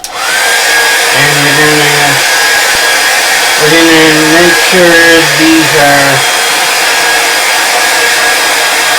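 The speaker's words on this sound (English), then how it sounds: "We're going to take the blow dryer" A blow dryer runs loudly and continuously through the whole stretch as a steady roaring hiss, while a voice talks briefly over it partway through.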